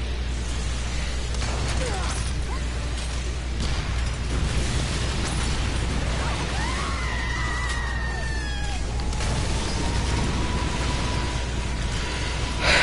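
Gunfire and explosions in the video game Earth Defense Force 4.1, with repeated bursts and booms, whooshing projectile streaks and a sustained rumble, while a person talks over the action.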